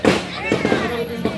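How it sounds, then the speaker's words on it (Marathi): Firecrackers burst during a Ganesh immersion procession in a Konkan village near Malvan: several sharp, loud cracks at uneven intervals, mixed with crowd voices. "फटाक्यांचे आवाज येतात"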